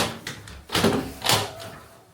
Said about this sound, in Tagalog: Pag tamad ka bumaba, merong pinto dito. Hindi ko lang alam kung mabubuksan ko, no? Mabigat siya.